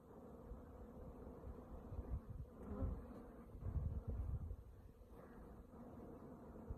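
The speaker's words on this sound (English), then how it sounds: "Wasps are giving that one some trouble." Wasps and bees buzz and drone close by at a hive entrance, several wings whirring at once, swelling louder and fading in uneven bursts over a soft background hiss.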